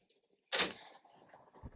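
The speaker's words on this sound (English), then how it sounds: "Now, when you close the door," A cabin door on a 2009 Sea Ray 310 Sundancer boat shuts with one sharp, close thud and rattle, followed by a low interior hum and a faint knock.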